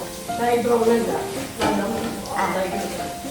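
Sliced onions sizzle in hot oil for a ghee rice dish, crackling steadily while a spoon stirs them through the pan; a voice talks over the frying.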